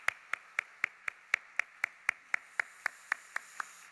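A church congregation at a Sunday evening service claps together in a slow, even rhythm, about fifteen crisp unison claps, moderately distant and without talk.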